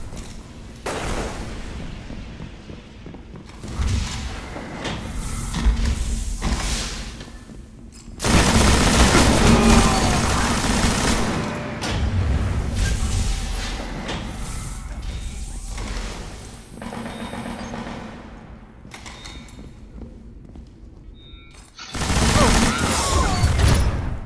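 Heavy machine gun fire in the shooter Destiny, long loud sustained bursts broken by short pauses, mixed with game effects and someone talking over parts of it.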